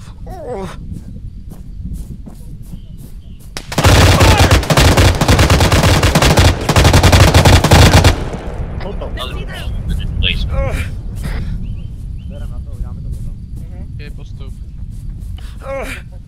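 Automatic rifle fire in an Arma 3 firefight erupts in a loud, sustained burst of rapid shots lasting several seconds, then scattered single shots and movement follow while players talk over radio.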